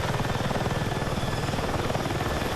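A helicopter in the video game Battlefield 6 flies with a steady, loud rotor thump and engine whine that holds evenly throughout, with no voices.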